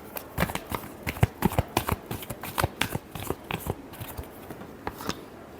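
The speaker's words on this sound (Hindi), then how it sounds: "लिब्रा के लिए लास्ट शफल" Tarot cards shuffled by hand during a Libra reading, a steady run of crisp riffling flicks and soft slaps, close and fairly quiet, with no voice over it.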